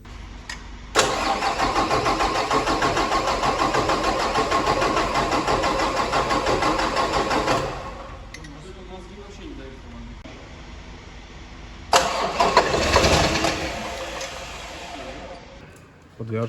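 A motor cranks and catches, then runs in a loud steady churn for several seconds before dropping off; after a pause it starts again with a rougher burst. Someone talks briefly nearby.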